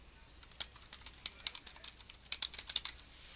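Typing on a computer keyboard while entering footer text in Microsoft Word 2016, a quiet run of quick, uneven key clicks with brief pauses, close and fairly faint.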